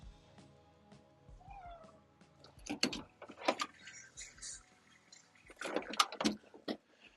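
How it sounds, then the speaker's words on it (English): A house cat meows repeatedly, several clear cries spaced across the stretch, close and fairly quiet, with faint clatter of a door being opened to let it outside. "Let my cat outside while we queue up."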